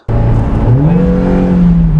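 Suzuki Jimny engine on a dyno kicks in abruptly and revs up, its loud close tone sweeping upward then holding a high steady whine.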